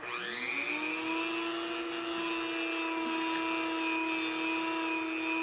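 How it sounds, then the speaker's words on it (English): A Dremel rotary tool whines steadily at high pitch as it trims an English starling's beak, a continuous close buzz that rises at the start and holds with slight wavering. "So we actually just use a Dremel, and I like to keep their beak closed when I do this."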